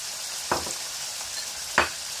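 Minced meat already fried with garlic and ginger keeps sizzling in a pan as cumin seeds go in, a continuous close hiss broken by two short scraping stirs, with no talking.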